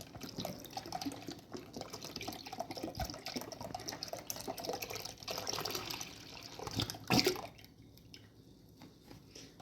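One litre of milk poured into a pudding mixture of sugar, corn starch and semolina, a soft, steady liquid trickle and splash, quiet and close, ending in a brief louder slosh before fading.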